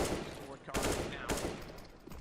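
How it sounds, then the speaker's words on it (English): Gunfire in the video game CS:GO, shots fired through smoke, a few sharp bursts over a busy game background with faint talk underneath. "Firing through smoke."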